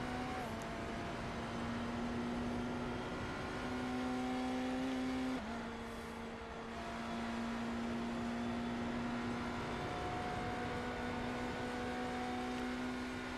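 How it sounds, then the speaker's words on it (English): A BMW GTP race car in a sim racing endurance practice session gives off a steady, loud, buzzing engine note that holds its pitch, dips briefly around a gear change midway, then settles back to a sustained drone. "This is the BMW GTP."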